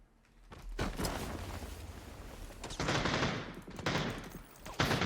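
Bursts of rapid gunfire in PUBG crackle in loud, dense volleys, pausing briefly before another heavy stretch of shooting, with a sharp thump near the end.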